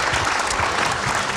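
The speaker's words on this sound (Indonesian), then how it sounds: "Oke, kita kasih tepuk tangan dulu." Dense, continuous applause from an audience at an Indonesian forum on safeguarding votes and democracy, a loud uniform wash of many hands clapping with no breaks, heard briefly and alone.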